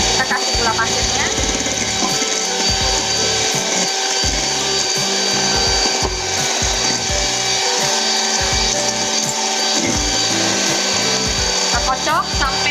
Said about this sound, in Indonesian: kita kocok sampai dia ngembang dulu, baru kita kasih gula pasirnya ya